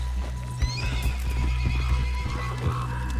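A horse whinnies clearly over a steady run of hoofbeats, with a low droning hum underneath, in the video game Red Dead Redemption 2.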